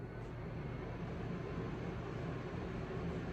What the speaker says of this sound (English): This is the second setting.